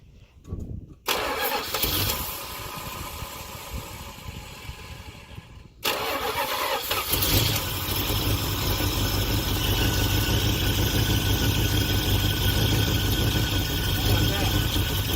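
A Dodge Ramcharger that sat in the weeds cranks briefly, falls quiet, then cranks again and catches, settling into a loud, rough idle. People talk over the engine.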